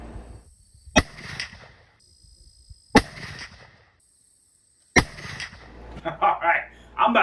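A muzzleloader loaded with a Barnes 290gr TEZ bullet over four 777 FireStar pellets fires three times at about two-second intervals, each a sharp loud crack with a short ringing tail, and voices talk faintly between and after the shots.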